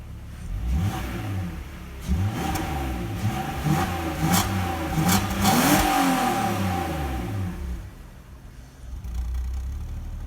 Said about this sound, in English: then I'll give you some revs maybe,